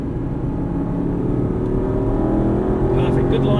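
An Aston Martin V8 Vantage on a race track runs with a loud, steady engine drone close by, a brief high whine near the end, while a voice talks over it.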